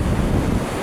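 Strong wind roars across an exposed sea shore in rough weather at Saltom Bay, buffeting the microphone with loud, continuous low rumbling noise over the wash of surf, no voices.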